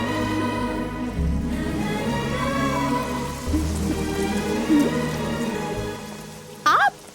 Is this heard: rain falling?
yes